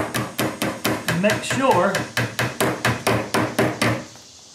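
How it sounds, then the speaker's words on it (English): A hammer taps a part into an Ikea kitchen cabinet in a steady series of about sixteen sharp, close, evenly spaced knocks, with a brief spoken phrase partway through before the blows stop. "I'm going to tap this in because I don't have that much room."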